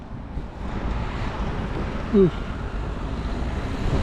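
Steady wind noise buffets the microphone outdoors in Moldova, a low constant rush with a brief tonal blip partway through.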